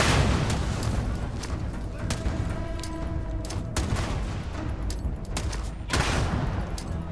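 Sustained gunfire and explosive booms in the video game Starfield, a dense, steady barrage with sharper shots breaking through, loud throughout with faint voices mixed in.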